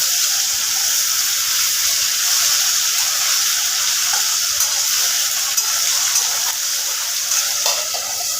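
A hilsa fish head fries loudly in a pan over a gas flame, giving a dense, hissing sizzle that stays strong and steady throughout.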